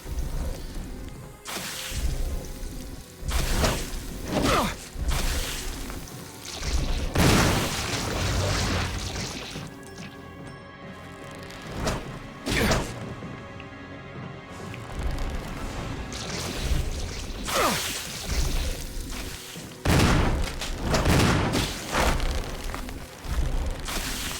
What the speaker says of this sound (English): I'm gonna shoot this plant with my gun.